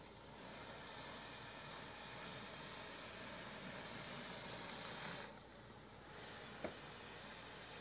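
A Kitfort KT-961-4 garment steamer hisses steadily as it releases steam onto a creased curtain, a continuous soft broadband hiss that dips briefly near the end with a small click.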